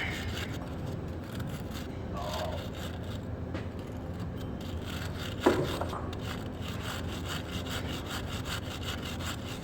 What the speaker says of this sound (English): put these on the vise and scrape them off as well